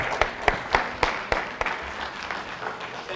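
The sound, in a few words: applause for speaker Dese'Rae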